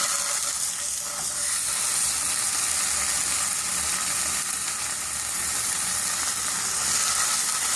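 Bacon sizzles in a non-stick frying pan, a steady, loud, bright crackling hiss that runs on without a break and with no voices over it.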